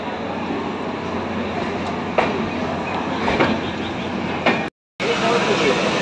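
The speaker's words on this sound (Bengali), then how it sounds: "8:55 বাজে আমাদের ট্রেন রওনা দিল" Passenger train on the Kolkata to Shantiniketan run pulling away from Howrah station: a steady broadband rumble of rolling carriages with a few sharp clanks, heard from inside a general compartment, broken by a brief dropout near the end.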